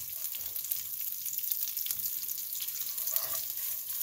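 Thai panang curry paste fries in oil in a pan, a soft, steady crackling sizzle with faint stirring scrapes and no voices.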